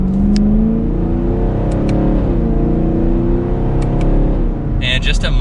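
A 2022 Chevrolet Camaro 1SS V8 accelerating in a manually selected gear, a loud, close exhaust note rising steadily in pitch, dipping briefly and climbing again, with a short burst of high clatter at the end.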